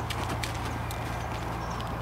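Rhythmic clip-clop of a hot, energetic dressage horse's hooves walking a small circle around a handler during groundwork, several close, evenly spaced footfalls with a low background hum and no talking.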